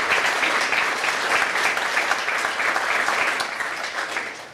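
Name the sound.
audience round of applause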